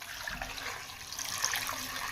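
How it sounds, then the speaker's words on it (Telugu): Water is poured into a pot holding eight eggs for boiling, a continuous splashing gush at moderate volume with no speech over it. "ఇది ఫస్ట్ వాటర్ వేసి"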